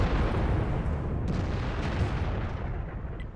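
A heavy tank cannon booms in a tank battle video game, the E-100, with a dense, rumbling low-end blast filling the whole stretch and slowly tailing off, loud and close.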